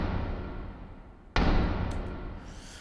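A big trailer FX drum hit from a Logic Pro sampler lands as one heavy, booming impact over a roaring rumbling texture, its broad crash ringing out and slowly decaying.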